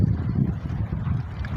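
Steady wind buffeting the microphone at a seaside spot beside stilt houses over the water, a loud low rumbling roar that runs through the whole moment without pause.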